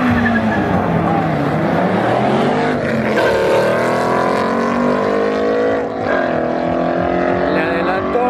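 Ford Mustang and Mitsubishi Evo 6 racing side by side down a quarter-mile drag strip in Arequipa, loud engines roaring and rising through the gears continuously, with a faint crowd or commentator murmur underneath.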